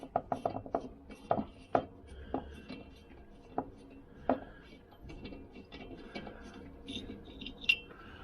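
A ratchet clicks in short bursts while loosening bolts on the cylinder head of a Vespa PX200 scooter, with faint metallic taps and tool handling between the turns.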